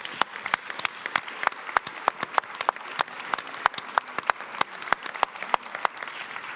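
Sparse applause from a small group at an International Women's Day event, individual claps distinct and uneven, moderately close, steady for several seconds.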